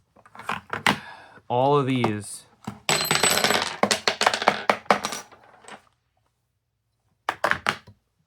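Impact driver bits clatter loudly for a few seconds inside a plastic Milwaukee Impact Duty Packout compatible case as it is shaken. A voice speaks briefly before and after the rattle.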